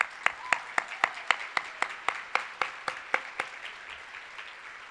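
Audience applause at an awards session congratulating an honoree, a thin, fairly distant patter of a few hands clapping in a steady, even rhythm for about five seconds.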